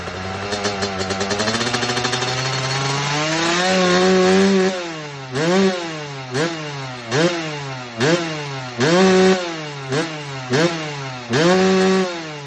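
Two-stroke dirt bike engine being jetted, revved hard as the throttle is twisted: a rising, buzzing climb followed by a series of sharp repeated blips and falls, loud and close, with no talking.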